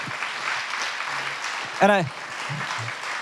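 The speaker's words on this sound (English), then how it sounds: "So I just give them a round of applause, please, just for everything they do." Audience applause at a fall president's breakfast event forms an even, continuous patter of many hands, broken briefly by a single voice calling out near the middle.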